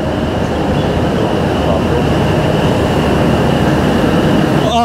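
A train pulls into a station in Kashmir with a loud, steady rumble and roar of wheels on track. A faint tone hums through it and a brief squeal comes at the very end.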